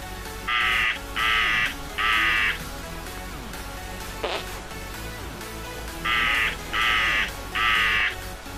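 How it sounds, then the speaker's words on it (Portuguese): A crow in a GTA San Andreas crow mod caws in two sets of three harsh, evenly spaced calls, loud and close over a steady game background hum, with a single short squawk between the sets. "você pode sair gritando como um corvo aí"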